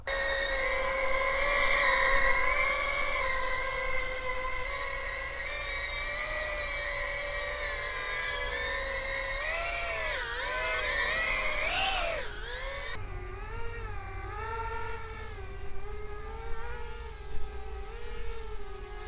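Flywoo FireFly Nano HEX, a small six-rotor drone with 1.6-inch propellers, flying close with a loud high-pitched whine whose pitch swoops up and down as the throttle changes.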